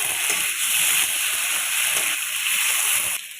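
A paste of chilli, cumin and coriander sizzles in a pan for a village-style snakehead fish dish, a loud steady hissing fry with bubbling splutters that cuts off abruptly near the end.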